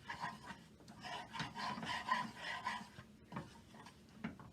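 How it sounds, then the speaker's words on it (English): A spoon stirs flour into melted butter in a pot, making a roux for potato leek soup; a steady scraping, rubbing sound repeats up close with short pauses, no talking. "So now I'm going to add the flour to this butter. And this is how you make gravy. And you just stir."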